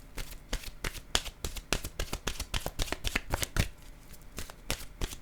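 Tarot cards being shuffled and drawn, a rapid run of crisp riffling flicks and slaps close up, steady throughout with no talking.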